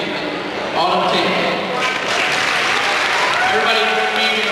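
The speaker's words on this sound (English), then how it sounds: "Everybody join me in a round of applause one more time for our 6 seniors." Applause for six senior players of a girls' high school basketball team at a home game, steady clapping from the gym crowd filling the whole moment, with voices mixed in underneath.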